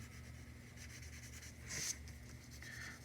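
A 4B pencil shades across paper with soft, close rubbing strokes in a steady rhythm, one slightly louder sweep near the middle, faint and with no voice over it.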